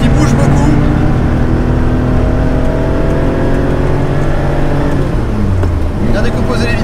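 A Porsche 911 SC at full throttle on the Lohéac circuit, its engine droning loud and steady from inside the car, pitch climbing through the gears before easing off near the end, with a voice talking over it.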